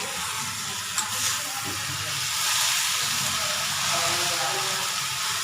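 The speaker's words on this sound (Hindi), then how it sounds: "तो एमा मैं चला देती हूँ चम्मच" A spoon stirs chana bhaji (chickpea greens) cooking in a pan, with a few light scrapes over a constant close hiss and sizzle of the greens.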